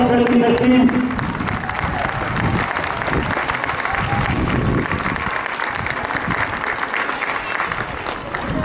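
A crowd at a youth U10 ice hockey tournament awards ceremony applauds the winning team, sustained clapping and some cheering filling the rink after a brief announcement over the speakers.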